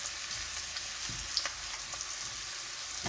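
Rosemary garlic lamb chops sauté in a pan with a little added liquid, giving a close, continuous sizzle and crackle with small pops and occasional stirring clatter.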